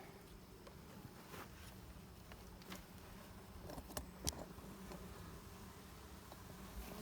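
Honeybees humming and buzzing in an opened hive during an inspection, a steady low drone with occasional closer passes and faint clicks, no talking.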